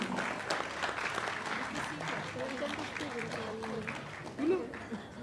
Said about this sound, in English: one final big round of applause to YB Puan Lim Hui.